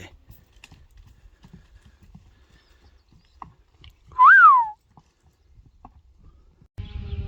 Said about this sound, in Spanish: Qué caballo, cómo patea por la sierra,